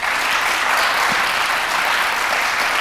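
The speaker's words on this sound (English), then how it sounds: "Let's give a big round of applause for Knauss." Dense, steady audience applause after a talk by a head of XR at the SINFO 25 conference, a full, even wash of clapping from a sizable crowd that holds at a constant loud level throughout.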